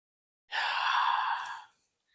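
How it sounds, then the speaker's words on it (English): A deep breath drawn in slowly through the mouth during a guided breathing exercise, a single soft airy inhale lasting over a second, close and alone in a quiet room. "Nice breath in."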